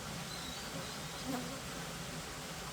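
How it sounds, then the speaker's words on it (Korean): Native Korean honeybees fly around their hive in the mountains, making a faint, continuous buzzing hum under steady outdoor noise. "벌들이 지금 저 숯벌이 지금 나르고 있는 모습인데요"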